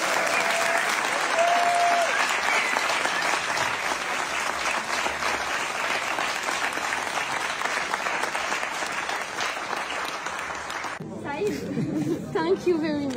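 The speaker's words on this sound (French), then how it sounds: "merci encore d'applaudir Martha Cooper" A festival crowd at a graffiti event applauds street photographer Martha Cooper with long, steady, full clapping and some chatter. The applause cuts off near the end and a voice speaks.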